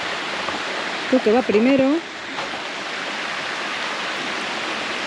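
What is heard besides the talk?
river current near a 50-metre waterfall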